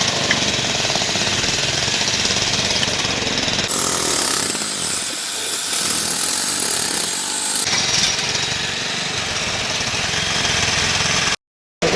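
Two motors drive well-digging work at a site, giving a steady, loud, continuous mechanical roar with rattling like a jackhammer. The roar dips briefly midway and cuts out near the end.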